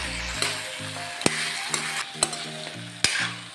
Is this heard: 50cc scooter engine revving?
no